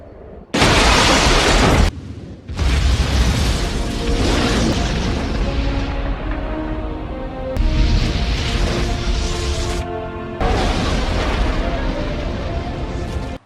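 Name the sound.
suicide bomb explosion in a film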